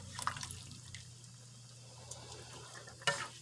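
Beef stew being stirred in a pot, soft wet sloshing and bubbling with a few light utensil taps and one sharper clink near the end, heard close over a low steady hum.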